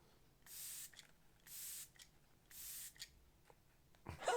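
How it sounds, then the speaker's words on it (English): A face setting spray is misted in three even, quiet bursts about a second apart, followed by a few faint clicks and a soft breath, with no talk. "allow me now to spray myself a little bit"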